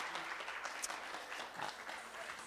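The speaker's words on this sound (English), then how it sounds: "let's go ahead and give them a round of applause for their presentation" Audience applause after a food service company's presentation, steady dense clapping from a room full of people, continuous and moderately loud throughout with no pauses.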